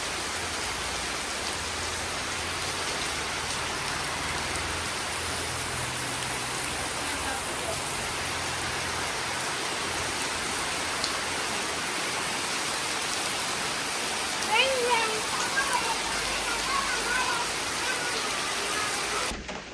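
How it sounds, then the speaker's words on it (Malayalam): Heavy rain pours down outside a temple, a steady dense hiss of drops on surfaces that stays even throughout, with a slightly stronger patter of splashes near the end and no talking. "ഒരു രക്ഷയില്ലാത്ത മഴയാണ്."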